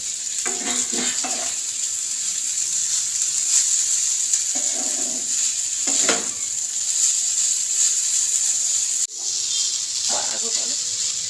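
Chow mein being mixed while frying in a pan, a continuous hiss and sizzle with a few scraping stirs, as someone speaks over it.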